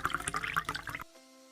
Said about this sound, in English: Now fill the measuring cup with water and then pour it into your steam mop.